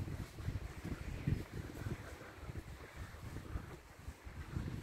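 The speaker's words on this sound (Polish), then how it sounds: "jest wiatr jest silny" Strong wind gusting steadily outdoors, a low rumbling roar with continuous buffeting against the microphone, moderately loud throughout with no voices.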